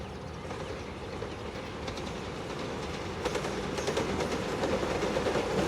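An Alsthom diesel locomotive, number 4103, hauling a passenger train with an air-conditioned sleeper car rumbles steadily past a level crossing near Nong Pla Duk, Thailand, with faint rhythmic clicking of wheels on rails growing slightly louder.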